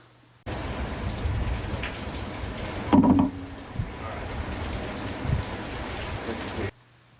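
Heavy rain pours onto the Tchefuncte River as a steady hiss. A brief louder splash or knock sounds partway through, with no voices.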